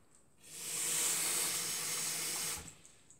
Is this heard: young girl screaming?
no